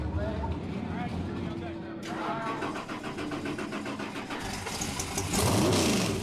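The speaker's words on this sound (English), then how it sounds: "With the engine finally turning over, it's time for qualifying." Drag racing car engine cranking and catching before qualifying at a winter nationals meet, with a rapid stuttering turnover that builds to a louder run, mixed with background voices.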